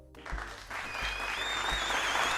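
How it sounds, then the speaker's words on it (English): Expo audience applauding at length, a dense wash of clapping with a few whoops and whistles on top, steady and fairly loud. "One more amazing round of applause"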